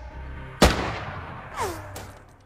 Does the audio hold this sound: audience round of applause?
no